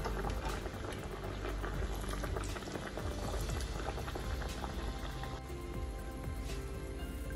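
Moong dal kachori frying in hot pure ghee, a steady dense bubbling and crackle of oil that runs loud and unbroken throughout, with no voices.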